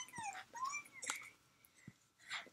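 A puppy whimpers in short, high, quavering whines and yips, with several separate cries spread across a quiet indoor moment, faint and close.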